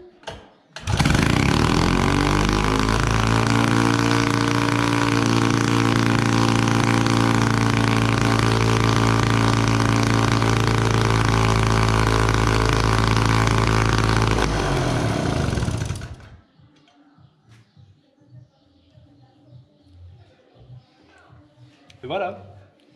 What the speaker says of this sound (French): Bon, voilà, notre moteur, il tourne.